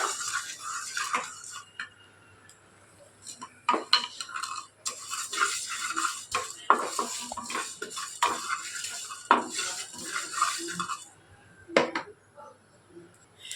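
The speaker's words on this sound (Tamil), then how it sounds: "நான் கருப்பு எள்ளு தான் சேர்க்குறேன் சேர்த்துட்டு நல்லா இதை ஒரு பொன்னிறமாக வர்ற அளவுக்கு லைட்டாக வறுத்துக்கலாம்" Black sesame seeds dry-roast in a pan for an eggplant masala curry, stirred with a spatula in quick scraping, clinking bursts. The strokes come close and irregular, with brief pauses between them and no talking.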